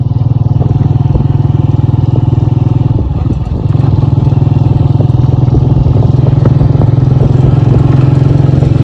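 Motorcycle ridden on a road near Banjosa Lake in Rawlakot, Azad Kashmir, its engine droning loud and steady throughout, briefly dipping and rumbling mid-ride before resuming a constant hum.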